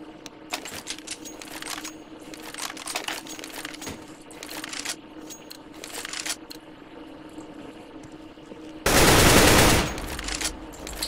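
Gunfire from an M4 rifle in a shooter video game during a 1v1 tournament round: a loud, dense burst of rapid shots near the end, following quieter clicky action sounds and faint background noise.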